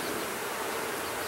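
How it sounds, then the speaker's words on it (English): Honeybees fanning and buzzing inside a hive, a dense, continuous, close hum that stays loud and even throughout with no pauses. "I can feel the breeze of the fanning of the bees in my fingers"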